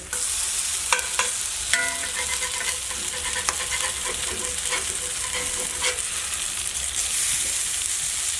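Pork fritters fry in hot oil in a pan with a steady, dense hiss and crackle. Occasional light metallic taps and clicks sound over the sizzle, which stays loud and close throughout.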